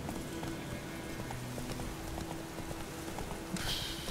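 Hooves of a horse ridden in The Witcher 3 clatter in a steady clip-clop rhythm at mid distance over a dense ambient bed, with a brighter hissing burst near the end.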